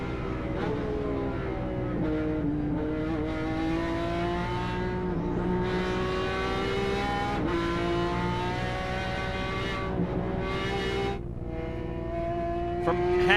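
Heard onboard a Speed World Challenge GT race car at Road Atlanta in 2003, the engine drones loudly and steadily close up, its pitch climbing and dropping with gear changes and throttle through the lap.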